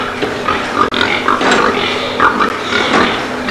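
Pigs in a pig production barn grunt and squeal loudly and close by, a busy overlapping chorus of oinks with no pause.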